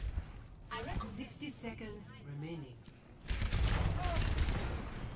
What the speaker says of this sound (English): That's a gun, dude